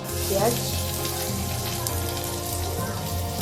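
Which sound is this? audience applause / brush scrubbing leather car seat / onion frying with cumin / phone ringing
onion frying with cumin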